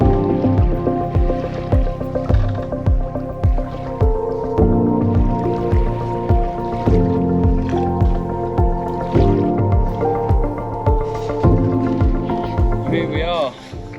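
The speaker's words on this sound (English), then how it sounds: "No engine noise, nothing, just sound of the water" Water trickles and drips past a sailboat's hull under sail with no engine running, a close, rhythmic series of soft plops and gurgles that repeats steadily, with a voice speaking over it.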